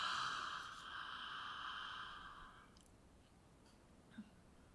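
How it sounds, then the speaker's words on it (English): A deep breath drawn in during a voice lesson, a long airy inhale heard close and fairly loud that fades after a couple of seconds into quiet room tone, followed by a small click. "Here we go. Breathing in."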